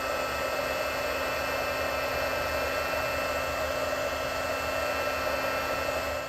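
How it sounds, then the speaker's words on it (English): A Stampin' Up! heat tool runs steadily, a constant close whooshing blast of hot air with an even motor whine and no pauses. "Then I've got my Stampin' Up! Heat tool. I'm gonna let this warm up"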